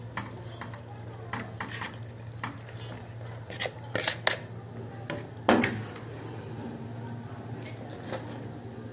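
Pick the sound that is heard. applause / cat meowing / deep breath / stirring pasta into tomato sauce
stirring pasta into tomato sauce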